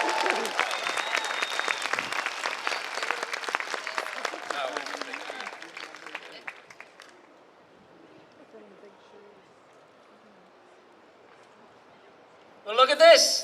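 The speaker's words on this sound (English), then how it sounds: "But big round of applause." An audience at a community event in Gympie gives a dense round of applause that fades over about seven seconds into a quiet room murmur, followed by a sudden close noise near the end.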